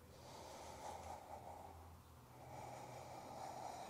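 A slow, deep breath drawn in and let out through the nose during a yoga flow, faint and close, with a soft airy rasp and no talking.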